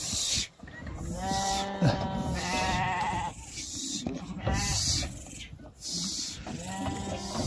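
Several lambs on a farm bleat and call repeatedly, close by and fairly loud, with overlapping cries and a deeper moo-like bleat mixed in.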